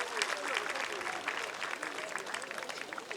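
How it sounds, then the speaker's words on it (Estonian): Audience at a southern Estonian seniors' folk festival applauds in a dense, steady wash of clapping, moderately distant and continuous throughout. "suure tänu ja aplausi saatel"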